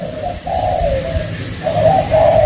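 A mid-pitched dove sold as an auspicious bird coos in repeated, rounded phrases, fairly close and clear over a low background hum, with a short pause before the last calls.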